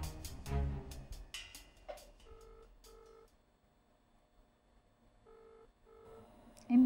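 A telephone rings over speakerphone during a call on a Tamil reality talk show. Two faint double-burst rings sound with a pause between them, after some brief clattering at the start.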